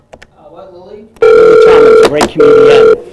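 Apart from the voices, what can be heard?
telephone ringing on a call line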